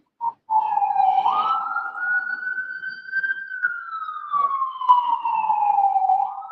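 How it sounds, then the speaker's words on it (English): A loud wailing emergency vehicle siren sounds outside, heard from an 8th-floor vantage, its pitch sweeping slowly up and back down in one long continuous wail with no talk over it. "those sirens are loud over there."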